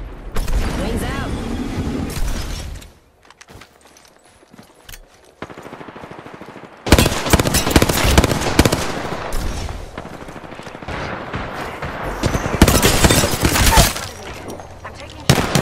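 Rapid automatic gunfire from the video game Apex Legends comes in loud, dense bursts separated by a quieter lull, with shots and impacts overlapping and voices talking over the fire.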